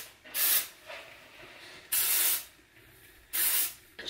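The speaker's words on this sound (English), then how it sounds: "I'm just gonna shake up this dry shampoo and spray it in my hair." Dry shampoo sprayed into hair from an aerosol can, three short hissing bursts spaced about a second and a half apart, close and clear, with quiet rustling between them.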